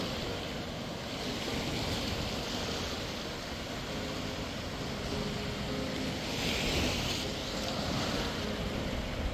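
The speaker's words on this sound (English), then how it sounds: "The waves crashing" Ocean surf rolling onto the shore at Surf City Beach around sunrise, a steady, close wash of breaking waves with a stronger surge near the middle, mixed with some wind noise and no voices.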